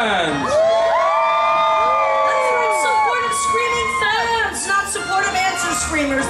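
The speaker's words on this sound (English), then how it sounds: "You need to be the supportive screaming fans." An audience of children and parents at a Star Wars Rebels themed quiz show cheers and screams loudly, with many high voices whooping together for several seconds.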